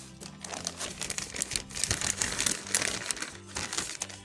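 A plastic bag crinkles and crumples continuously up close as it is handled while preparing seeds for germination with a damp paper towel or cloth.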